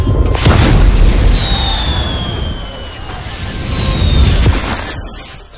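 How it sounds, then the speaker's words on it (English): Booms and crackling bursts of fireworks in the fantasy film The Lord of the Rings, set at a birthday party, with a whistling rocket streak among loud repeated explosions and talk over them. "So what, Gandalf is just got fireworks powers?"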